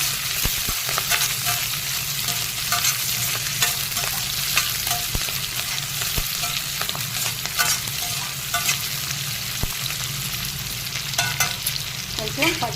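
Thota kura and menthi kura greens are frying with curry leaves in a pan, a continuous close sizzle broken by frequent scraping clicks of a stirring spoon, with no talking.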